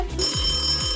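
A vintage telephone bell rings continuously at close range, a bright, steady metallic trill lasting about a second with no voices.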